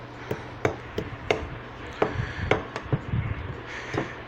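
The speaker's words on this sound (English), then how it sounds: "we'll see what this batter looks like after I get it mixed up here" Cornbread batter with buttermilk stirred in a bowl, with a dozen or so soft knocks and scrapes of the spoon against the sides in an uneven rhythm, close and fairly quiet.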